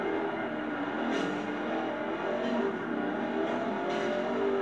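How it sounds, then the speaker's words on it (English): A Dodge Challenger's engine drones steadily in the Xbox 360 version of the racing game Forza Horizon 2. The tone is loud, continuous and slightly wavering, with no talking over it. "The Dodge Challenger is a nice car in this game to drive."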